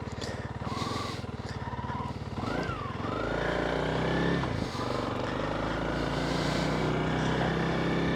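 A 2024 Honda CRF300L motorcycle engine pulling loud and close while riding, with steady revving that rises and falls through gear changes.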